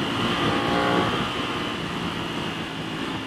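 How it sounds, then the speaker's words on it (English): A 2021 Aprilia Tuono V4 1100 Factory motorcycle engine drones steadily as the throttle is opened a little during a test ride, mixed with constant wind roar, no speech. "So here we are, opening the throttle a bit."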